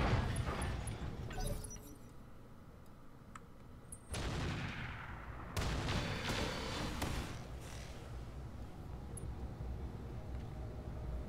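Gunfire in the video game Roguepoint, a rattle of shots and sharp bursts over a steady low rumble, with several distinct cracks across the stretch and no talk.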